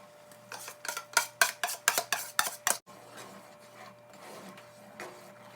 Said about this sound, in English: So I'm gonna keep stirring this roux